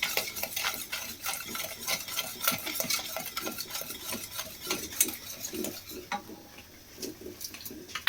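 A sugary mixture with lumps is stirred in a pan on the stove, utensil scraping and clinking against the pan in a steady, busy rhythm, close and fairly quiet.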